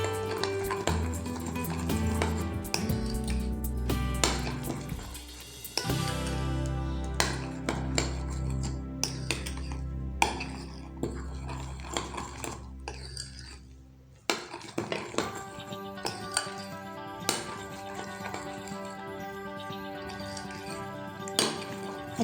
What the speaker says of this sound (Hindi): अब हम इसमें powder sugar and food colour add कर लेते हैं और इसको अच्छे से मिक्स कर लेते हैं।